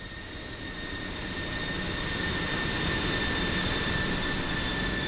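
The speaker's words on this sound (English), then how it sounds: "Let's check out the train of airplanes behind us." Jet engines of a formation of aircraft trailing an F-16 in the combat flight simulator DCS World, a steady broadband roar with a faint whine that swells slightly louder, with no talking.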